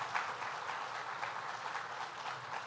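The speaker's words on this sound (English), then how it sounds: "So Fred Kowal, let's give a round of applause here." At a New York governor's announcement event, a crowd gives a sustained round of applause. The dense, even clapping sounds somewhat distant and fairly soft, with no talking over it.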